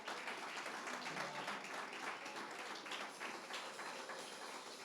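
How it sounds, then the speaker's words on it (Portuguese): Church congregation applauding during a celebration service, a faint, even patter of many hands clapping at a distance, continuing steadily with no clear break. "vamos aplaudir a vida do Massui?"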